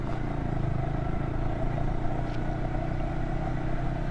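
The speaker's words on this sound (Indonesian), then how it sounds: "Jadi kayak ada suara gesekan gitu di dalam mesin ini" Yamaha R15 motorcycle engine running steadily at low speed in second or third gear, a dense, continuous mechanical drone with a rough grinding friction noise from inside the engine, close and constant throughout.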